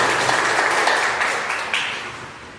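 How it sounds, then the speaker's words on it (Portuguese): A congregation at a gratitude testimony gathering in Pirassununga claps together in a brief, lively burst that slowly fades. "Vamos aplaudir esse Jesus maravilhoso"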